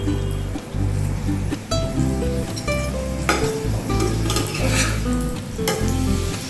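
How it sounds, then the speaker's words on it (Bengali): Oil sizzles and spatters steadily in a pan as ingredients are stirred in for frying, crackling close and continuous through the whole stretch. "এবার এতে আমি তেল দিয়ে দিলাম।"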